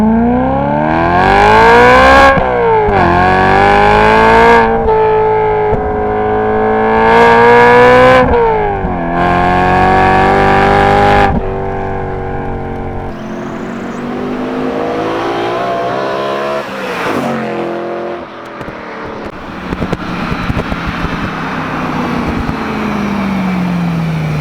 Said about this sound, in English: I'll leave you guys with some exhaust clips